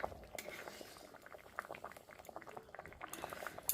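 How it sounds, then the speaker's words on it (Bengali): Dal simmers in a pot on a gas stove, a steady soft bubbling with scattered pops and little liquid patters running close by throughout, with no voices. "এখন এখানে এই যে ডাল সম্বার দিয়ে দিলাম গ্যাসের মধ্যে সিদ্ধ করে"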